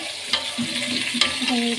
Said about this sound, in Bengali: এই জন্য এই যে মুরগি রোস্টটাকে বসাই দিচ্ছি, সব শুধু লেগ পিস